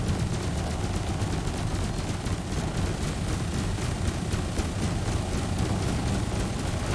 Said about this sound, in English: the multi-cannons are working again